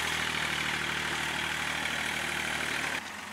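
Dumper truck engine running steadily at a constant loud rumble near by, with a slight drop in level at the end.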